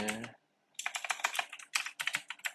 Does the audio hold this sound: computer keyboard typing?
yes